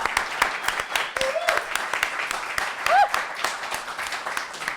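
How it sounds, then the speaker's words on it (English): Audience applause at a live podcast recording in Sunderland, a steady patter of clapping throughout with a few voices calling out over it. "Big round of applause."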